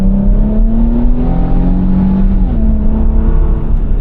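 A 2025 Infiniti QX80 SUV with a 450-horsepower engine accelerates hard, a loud steady engine drone rising in pitch, dipping at a gear change and climbing again, heard from inside the cabin without talk.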